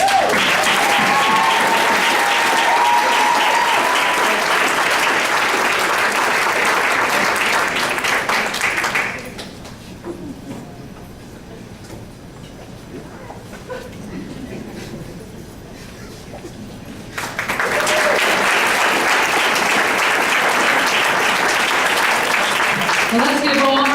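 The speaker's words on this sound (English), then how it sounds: "So let's give all of our teachers and paraprofessionals of the year a great round of applause." Audience at a board of education meeting in Lakewood, NJ, applauding teachers and paraprofessionals of the year: sustained loud clapping from a crowd, a quieter stretch midway, then a strong second round of applause.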